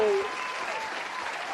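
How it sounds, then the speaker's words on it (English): Canned clapping sound effect, a steady wash of many hands clapping at moderate level after a brief tonal cue at the start, with no voice over it. "We need clapping sounds."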